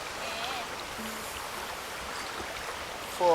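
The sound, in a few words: river water flowing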